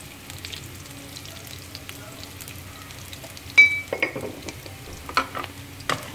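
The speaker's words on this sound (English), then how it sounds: "next I'm going to throw in the cabbage and the carrots" Cabbage and carrots for an Indian-style stir fry start frying in a pan, with a soft, steady sizzle and a few sharp clinks and stirring knocks toward the end, up close and without speech.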